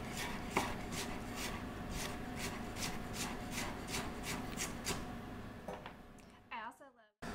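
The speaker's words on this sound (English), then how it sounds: "I freak people out when I cut with this, but I know my way around a knife." A big onion is cut with a knife in a kitchen in a steady series of crisp chopping taps under a noisy room, ending with a brief handled clatter.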